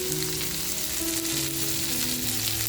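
Stuffed squid frying in hot oil, a steady close hiss of sizzling that runs unbroken throughout, with faint background tones beneath.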